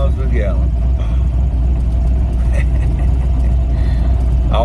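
A car engine fitted with a massively oversized carburetor idles smoothly and steadily, a close, even low rumble with a faint voice briefly over it.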